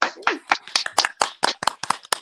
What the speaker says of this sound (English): let's have a round of applause on that.